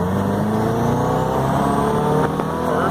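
A turbocharged car accelerates on the road, its engine droning loud and steady with rising tones under load and a brief mechanical rattle near the end.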